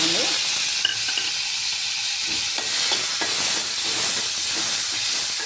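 Tomato pieces sizzling and frying in a pan, a steady loud hiss with a few soft clinks of stirring, close and continuous with no talking.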